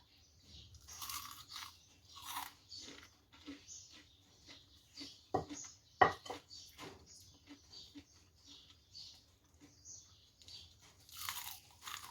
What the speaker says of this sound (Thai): ฟังเสียงความกรอบนะคะ